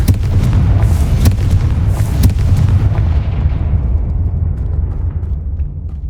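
Confringo explosion spell in a Harry Potter video game: a loud, deep rumbling blast with a few sharp cracks near the start, then a long low roar that slowly fades.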